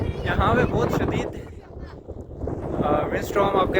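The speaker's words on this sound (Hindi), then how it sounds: "बहुत तेज़ हवा है यहाँ पे।" A strong wind storm on the Ganga Choti mountain in Bagh, Azad Kashmir, batters the microphone with loud, gusting rumble, rising and falling while a person talks over it.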